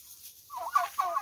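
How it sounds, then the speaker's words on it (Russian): A turkey gobbles nearby in a village in two quick rattling bursts, fairly loud against a quiet background. "первый раз я тут в селе встретил индюка"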